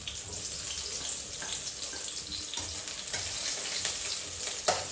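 Garlic and onion sizzle in hot oil in a home kitchen pan, a dense, steady crackling hiss with small pops and stirring noises, close up and continuous.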